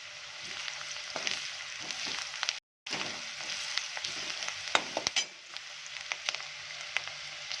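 Onion with turmeric and salt frying in a pan, a continuous close sizzle with scattered spoon scrapes and taps as it is stirred, briefly cutting out once; no one speaks.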